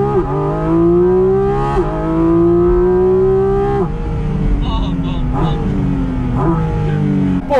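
A Porsche 718 Cayman GT4 RS engine revs loudly while driving, rising in pitch through several gears with clear shift drops between pulls, close and dominant.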